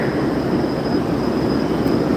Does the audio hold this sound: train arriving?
yes